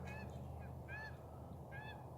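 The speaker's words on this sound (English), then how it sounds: "There are ducks everywhere out here." Ducks calling outdoors in a few short honking bursts, spaced apart over a steady low background rumble, with no voices.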